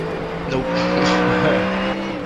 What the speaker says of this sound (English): the Mustang's so loud in this game